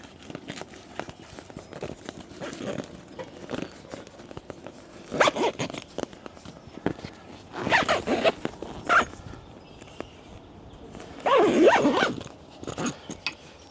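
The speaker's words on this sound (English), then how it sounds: "and now you can zip it closed." A heavy-duty YKK zipper drawn shut on the window of a Kemimoto soft cab enclosure for a Kawasaki Teryx 4, with several separate close zipping strokes and handling rustles between them.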